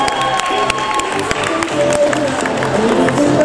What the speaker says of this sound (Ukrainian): У ваші оплески організатору Олександр Кариван.